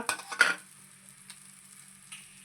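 Chicken liver and gizzard frying in masala with coriander, curry leaves and mint; a brief burst of sizzling and stirring opens, then settles into a faint, steady hiss.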